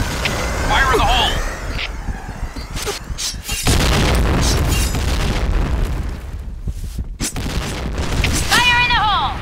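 Grenade blasts in the video game Point Blank: loud booming explosions with rumbling decay, mixed with gunfire bursts and game sound effects, while a voice calls out during the action.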